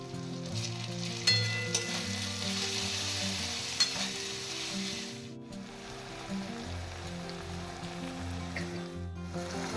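Seven cloves of garlic sizzling in hot oil for a Bengali mutton-fat ghugni, a continuous dense frying hiss with occasional pops, close and fairly even throughout, with no voices.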